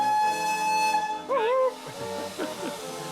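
A steam locomotive whistle hisses out a steady high tone for about a second, then a brief rising whistle note, with hissing steam and faint voices around it.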